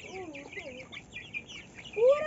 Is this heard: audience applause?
no